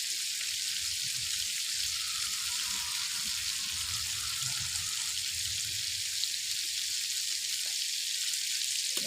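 Chopped onion frying in a pan, a steady close sizzle with a dense hiss running evenly throughout, with faint soft crackles beneath and no talking.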